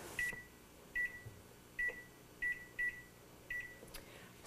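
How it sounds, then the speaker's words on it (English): An oven timer is set with a series of short, clear electronic beeps, about seven in an irregular rhythm, each a single bright tone at moderate volume against a quiet background. "So I'll set the timer for 45 minutes."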